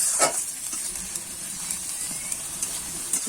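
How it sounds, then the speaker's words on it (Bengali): Onion paste gravy for chicken omelette curry sizzles faintly in a pan while being stirred, with a steady low frying hiss and occasional soft scrapes, close by with no talk. "এবারে কিন্তু এইভাবে নাড়িয়ে চালিয়ে পেঁয়াজের কাঁচা গন্ধটা যতক্ষণ না যাবে ততক্ষণ কিন্তু আমি নাড়িয়ে চাড়িয়ে নেব"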